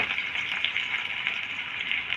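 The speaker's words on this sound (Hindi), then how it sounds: "ये घी गर्म हो गया। अब इसके अंदर हम ये प्याज डाल रहे हैं।" Chopped onions sizzle steadily in hot ghee as the tempering for masoor dal begins, a close, even hiss with small crackles and no talk.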